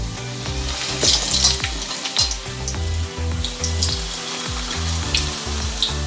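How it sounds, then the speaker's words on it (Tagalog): Potatoes and carrots frying in hot oil for beef kaldereta, a dense, loud continuous sizzle with clinks and scrapes of stirring, close up and with no one talking. "nag-init ako ng oil kasi i-fried natin yung ating patatas. At saka yung ating carrots."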